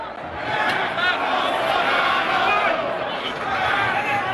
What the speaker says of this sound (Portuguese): Bolsonaro agitou a camisa do Santos para a torcida, vestiu e foi ovacionado.